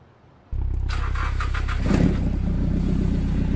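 A BMW M4 engine in a driving video game cranks and catches, then idles with a steady low rumble and gives a brief rev partway through.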